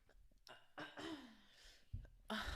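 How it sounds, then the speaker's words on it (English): A person clears their throat close to the microphone in short, rough bursts separated by quiet pauses. "I have to clear my throat."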